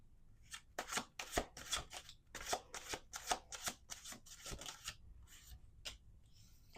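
Tarot cards being shuffled in a quiet reading, a steady run of crisp riffling flicks and papery slaps, close and fairly soft, with no talk.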